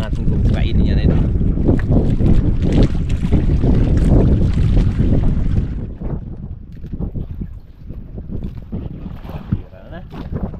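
Strong northeast monsoon wind gusting over open sea around a small fishing boat, loud buffeting rumble that eases midway, with voices talking intermittently.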